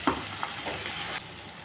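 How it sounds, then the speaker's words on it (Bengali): Spice paste sizzles in a hot pan after browned onions, a steady soft frying hiss with a couple of faint clicks of stirring near the start, no voices. "এখন মশলাটাকে ভাজা ভাজা করে দিই"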